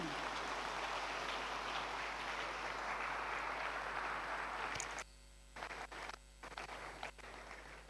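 Audience applause at a university dialogue series at KNUST, a dense steady patter of many hands clapping for about five seconds, then thinning to sparse, scattered claps with gaps.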